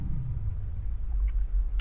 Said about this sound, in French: c'est simplement le bruit que vous entendez, l'espèce de bourdonnement, c'est vraiment le jeu